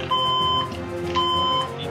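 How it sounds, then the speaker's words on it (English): An alarm clock beeps in two quick bursts of sharp, steady electronic tones, loud and close, over a background of video game music. "My alarm clock is going off for some reason."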